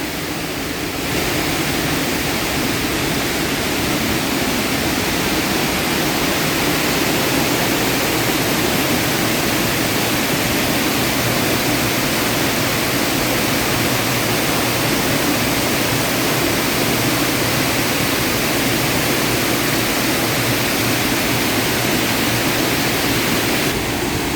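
Steady, loud rush of a waterfall seen from a bridge roars without a break, a broad continuous wash of noise with no voices.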